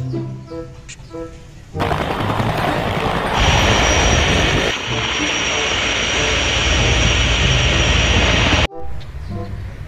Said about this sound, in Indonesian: Ayo teman-teman helikopternya mau take off